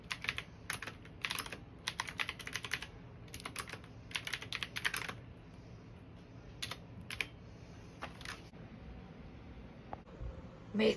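A computer keyboard clatters in quick bursts of typing, close and fairly quiet over a low steady background hum, with pauses between the runs of keystrokes and no one talking.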